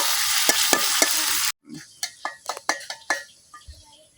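A loud, hissing sizzle of onion and garlic frying in a pan breaks off abruptly, followed by a series of scraping, clinking stirs against the pan.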